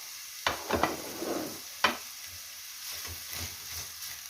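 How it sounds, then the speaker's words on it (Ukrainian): Chopped onion frying in a pan, a soft, close sizzle under sharp stirring clacks and scrapes at uneven intervals. "Спочатку просмажу трошечки цибульку."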